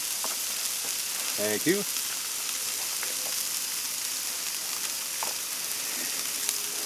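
Sausage sizzles steadily on a Blackstone griddle, a constant broadband crackle running throughout, with a brief spoken voice near the start.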